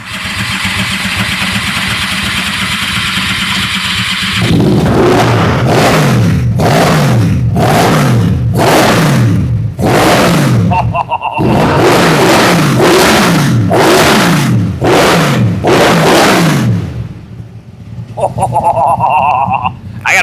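A 1000cc engine in a golf cart cranks and catches, then is revved hard in a run of sharp, loud, rising bursts with brief drops between them, close and dominant, before settling and revving again.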